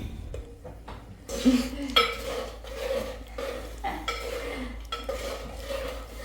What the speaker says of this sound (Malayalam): തിള വരുന്ന വരെ നമ്മൾ കൈ എടുക്കാണ്ട് ഇങ്ങനെ ഇളക്കി ഇളക്കി നിൽക്കണേ